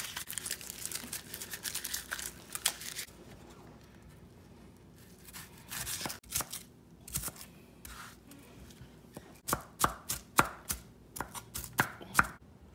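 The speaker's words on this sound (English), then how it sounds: "I'm just cutting these onions." A knife chops onions on a cutting board for chili, with a burst of quick, close chopping at the start, a quieter stretch, then a run of sharp, irregular chops near the end.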